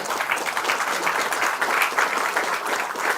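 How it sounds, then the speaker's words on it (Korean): Applause fills a party caucus meeting of lawmakers, a dense, steady roar of many hands clapping at once that holds loud and even for a few seconds. "다시 한번 우리 큰 박수 쳐주시고"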